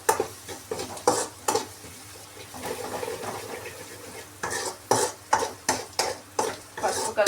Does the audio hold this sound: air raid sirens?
no